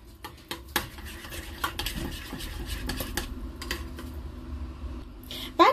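A utensil briskly whisks thinned yogurt in a bowl for a borek sauce, making quick, close, continuous clicks and taps against the bowl with a few louder knocks.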